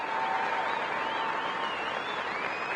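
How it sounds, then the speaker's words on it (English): Baseball crowd giving a standing ovation before a ceremonial first pitch, a steady dense wash of applause from a large stadium audience, held at an even level throughout. "But he is getting a standing ovation from the crowd."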